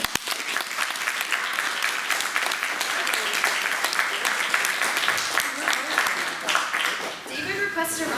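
An audience applauds alumni panelists at a 2017 alumni panel: steady, dense clapping from a full room that holds for about seven seconds, then thins out as a voice comes through near the end.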